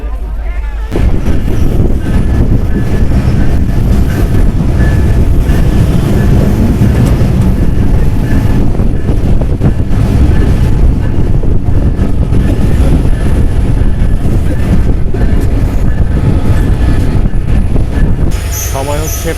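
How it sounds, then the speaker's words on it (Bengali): Barendra Express train pulling out of a station after a long halt, a loud, steady rumble of wheels and carriages running continuously throughout at close range. "অবশেষে ট্রেন ছাড়লো এক ঘন্টারও বেশি দাঁড়ানোর পর"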